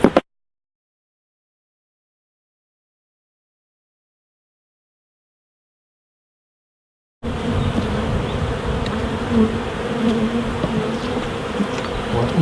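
Honey bees swarm and buzz around an open hive at a UK apiary being readied for spring honey; after a long silent stretch a dense, continuous humming swells in close to the microphone and carries on steadily.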